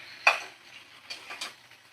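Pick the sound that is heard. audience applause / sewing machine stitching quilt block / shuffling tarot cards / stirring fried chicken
stirring fried chicken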